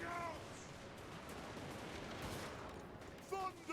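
Dwarf Thunderers firing their guns in a Total War battle, a dense, continuous rattle of distant volleys with a low rumble, and a shouted voice line breaking in near the end.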